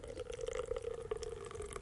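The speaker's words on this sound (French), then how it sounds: "Purger, ça consiste à ouvrir le robinet jusqu'à ce que ça coule." Water runs from the tap of an enema kit as it is purged of air, a soft steady trickle with a faint ringing tone and small irregular drips, close and quiet.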